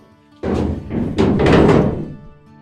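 A classic Mini's door is worked during fitting on a rally build, and a few close, solid thunks and knocks land in quick succession, loud and clear with no talking.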